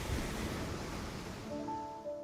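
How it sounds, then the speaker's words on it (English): Ocean waves crash in a loud, continuous roar of surf that churns without a break, and a few thin tonal cries rise faintly above the wash near the end. "A towering wave came crashing in, full of the ocean's power."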